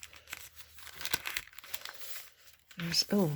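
A newly purchased journal comes out of its plastic packaging with bursts of crinkling and tearing, close and fairly loud, while someone talks over and between the rustles.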